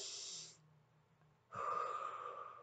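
A close, soft breathing cycle through the mouth: an airy exhale fades out, a quiet pause follows, then another breath rises, calm and unhurried with no talking.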